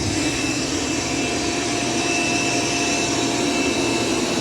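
Mova P10 Ultra robot vacuum running at maximum suction, a loud steady broadband whir with a low motor drone that holds constant throughout, close by with no talking.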